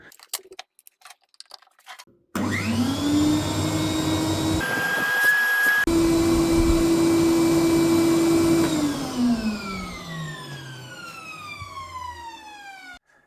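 An industrial vacuum cleaner switches on with a sharp motor whine, runs loud and steady for several seconds, then spins down with a falling pitch until it fades out.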